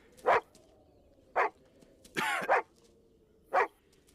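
Dog in a horror film giving four separate barks spaced out over a few seconds, one a quick double yip, fairly close with a low hum underneath and no talk.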